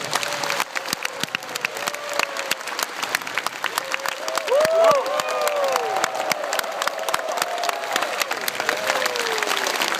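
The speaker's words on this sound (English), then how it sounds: "may I have a big big round of applause for Richard Duncan" A live audience in a Hanoi seminar hall breaks into steady, dense applause that carries on throughout, with a few faint cheers and murmurs of voices mixed into the clapping.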